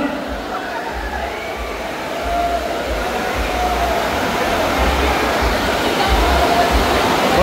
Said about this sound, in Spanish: Se vino el agua bien recio